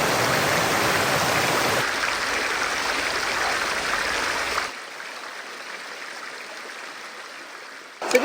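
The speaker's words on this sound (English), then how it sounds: "You've got this beautiful flowing river, and just up there there's a nice swimming hole where you could take a nice swim." A flowing river beside a campsite in Darlington, Queensland, gives off a steady broadband rush of water, loud and close at first and then softer, with no talking.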